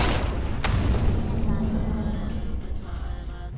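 A grenade goes off mid-room in the multiplayer game Unitystation: a sharp boom near the start, then a long, loud rumbling tail with faint clinks and debris scattered through it.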